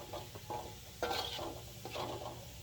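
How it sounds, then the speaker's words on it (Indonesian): Garlic fries in a pan in a home kitchen, giving off a steady low sizzle broken by soft scrapes and light clinks of a utensil stirring, close and fairly quiet with no talking. "Nah ini kita goreng bawang putihnya jangan terlalu lama"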